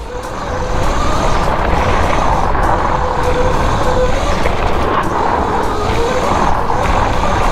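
A Sur Ron electric go-kart circle drifting around a roundabout: a loud, close motor whine rises and falls in repeating sweeps over a rough rushing roar of tires on pavement, with no voices.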